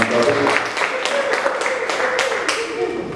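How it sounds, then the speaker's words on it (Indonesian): An audience applauds a speaker at a youth gathering, with many hands clapping in a lively, even patter that carries on steadily and close, while a voice speaks over it. "Kita berikan tepuk tangan yang meriah buat Bapak Imam Taufik."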